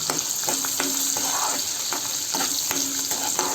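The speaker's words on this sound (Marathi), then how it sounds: "आलं लसूण मिरची हे मिश्रण मिक्स करून घ्या चांगलं परतवून घ्या" Ginger, garlic and chilli paste stir-fried in a pan for rice vadi, a steady sizzle with intermittent scraping stirs running throughout.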